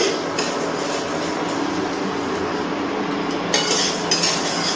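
Moong dal dry-roasts in a pan over a low-medium gas flame, with a continuous soft rustling and light scraping clinks of stirring, no talk.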